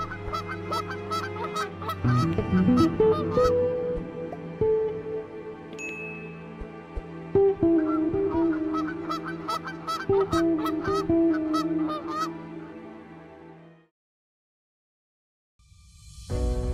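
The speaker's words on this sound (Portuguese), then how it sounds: "Na Noruega, observar os gansos e patos em deslocamento" Geese in Norway honk in repeated, overlapping calls, fairly close and loud, the flock going on for several seconds before falling silent.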